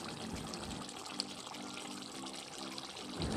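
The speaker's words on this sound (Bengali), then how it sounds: "জলের পরিমাণটা সামান্য দিয়ে একটুক্ষণ ফুটিয়ে নিলেই" A small amount of water poured into a pan of Bengali duck egg curry, a faint steady trickle and light pouring under the quiet kitchen background.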